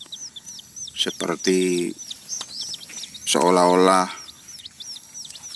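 Sumatran red junglefowl chicks, up to nine days old, cheep in rapid, repeated high chirps throughout. Someone talks over them in two bursts.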